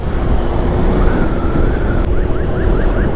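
An ambulance siren wails nearby on a road in Pangasinan, Philippines, shifting from a long tone into a rapid repeating yelp over loud road and engine noise.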